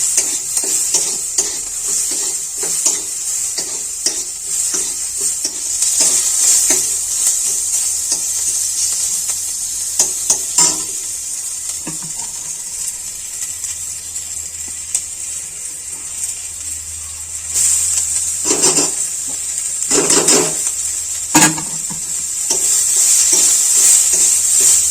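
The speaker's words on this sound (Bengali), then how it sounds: "একদম অল্প একটু শাক ভাজবো, সেই জন্য একদম একটুখানি তেল দিয়েছি" Greens (saag) frying in a small amount of oil in a pan give a continuous light sizzle, broken by repeated scraping and stirring bursts, with a few louder stirring clatters partway through. No one speaks.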